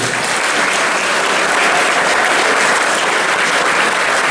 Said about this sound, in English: for all our helpers, ladies and gentlemen, a round of applause